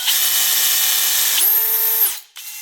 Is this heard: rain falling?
no